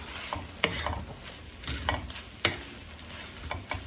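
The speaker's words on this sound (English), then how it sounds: "And then you're just gonna wanna mix it a little bit," Bean sprouts folded into pad Thai noodles in a hot pan, a quiet sizzle overlaid by short, repeated scraping and tossing strokes from stirring, close and without talk.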